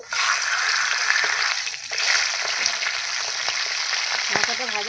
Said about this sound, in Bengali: এই মাছের মাথাটা প্রথমে ভেজে নেবো,